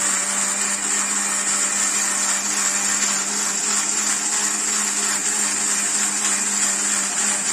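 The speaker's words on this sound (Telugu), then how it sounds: "నేను ఎప్పుడైతే మిక్సీ పట్టేస్తున్నాను" A mixer grinder whirs steadily at high speed, a loud continuous motor drone with no pauses or voices.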